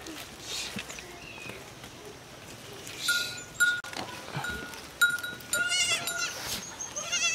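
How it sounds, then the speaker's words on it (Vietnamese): A two-day-old baby goat bleats a few times in a rural village, short wavering cries amid soft footsteps and quiet background talk. "Con này được mấy ngày rồi? Đẻ được mấy ngày rồi? Con dê con này?"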